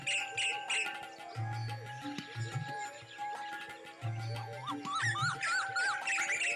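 Several birds chirp and call in Kaziranga National Park, overlapping tweets and whistles of varied pitch with repeated low hooting notes underneath, steady and moderately close.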